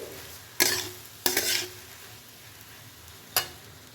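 Fried rice being stirred and mixed with salt, pepper and sugar in a pan, heard as three sharp scraping strokes of a spatula over a soft steady sizzle, with no talking.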